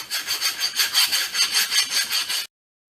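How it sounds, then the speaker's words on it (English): A rough file rasps rhythmically across a metal brake part edge on a 2002-2006 Honda CR-V, about a dozen steady back-and-forth strokes, close and fairly loud, with no voices. "Hit this edge with a nice rough file."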